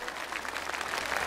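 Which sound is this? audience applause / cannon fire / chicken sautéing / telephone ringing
audience applause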